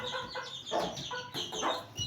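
Hens cluck in short, close bursts, a few throaty calls rising and falling in quick succession over faint background noise.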